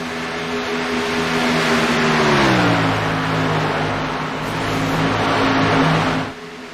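A Chevrolet race car engine in a racing video game roars steadily at high revs, its pitch dipping briefly then holding strong, loud and close with no talk over it.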